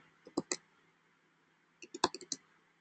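Two short bursts of quick computer keyboard typing, a few keystrokes at first and then a denser run, heard close and fairly quiet with a silent gap between them.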